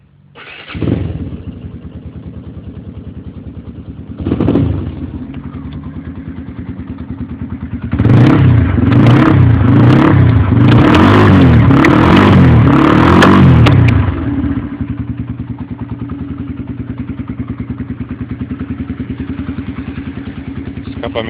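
A modified Apache 150cc motorcycle engine with an aftermarket exhaust idles loudly, then is revved hard in a series of sharp bursts before settling back to a steady idle.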